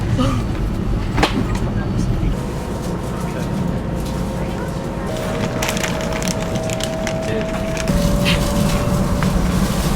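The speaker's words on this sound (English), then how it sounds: "Shinkansen. Feels a lot slower." Steady low rumble and rushing noise inside a Shinkansen bullet train while riding, with faint rattles and a few brief tones over the constant drone.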